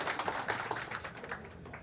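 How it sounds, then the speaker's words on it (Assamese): An audience at a teacher training programme claps hands in a brief, dense burst of close, bright clapping that eases off slightly by the end. "সকলোক মই এটা হাত চাপৰি দিয়ে"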